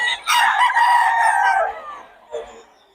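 An 11-month-old stag gamecock crowing once, close and loud, a drawn-out call followed by a short faint cluck.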